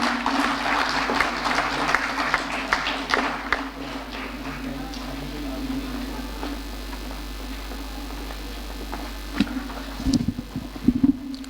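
An audience at a district seminar claps to welcome the district governor to the stage, a dense round of applause that is strongest early and tapers off, with a steady hum underneath and a few louder knocks near the end.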